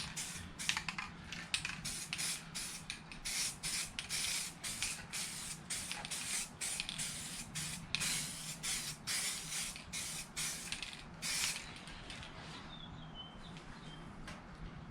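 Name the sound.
coating being sprayed onto a steering wheel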